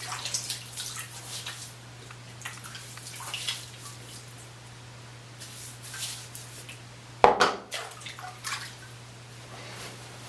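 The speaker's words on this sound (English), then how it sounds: "Gonna add the bloom water to my face." Bloomed shaving soap water is splashed onto a face during a wet shave. Soft close trickles and drips lead up to one sharper splash near the end, with no talking.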